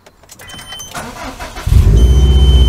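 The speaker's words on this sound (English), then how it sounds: "Right, I'm going to start up, foot's on the clutch because it's keyless entry and keyless push button start." Subaru WRX STI engine cranking and catching after a keyless push-button start, with a few faint electronic beeps first, then a loud steady idle rumble close by.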